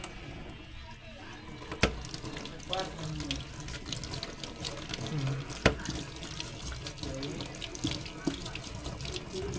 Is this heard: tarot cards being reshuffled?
no